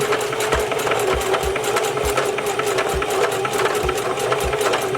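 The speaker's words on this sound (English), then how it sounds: "while I'm sewing, I'm kind of like twisting the track" A sewing machine runs steadily while stitching hair tracks, its motor whirring loud and continuous with a regular mechanical rattle of the needle throughout, no voices.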